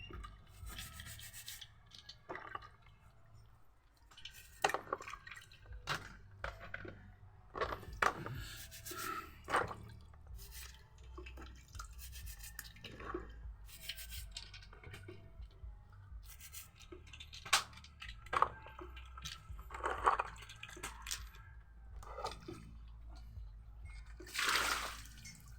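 Seashells being scrubbed clean of sand in water for a seafood lunch, with repeated rubbing and scraping strokes and light splashing, close and fairly quiet, coming in irregular bursts.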